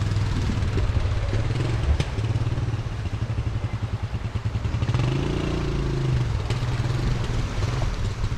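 A quad bike churns through the water of Rufford ford, its engine revving hard and steadily while the wheels spin, loud and close throughout with some splashing clatter.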